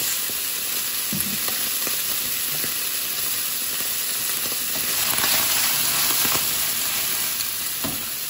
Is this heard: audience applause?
no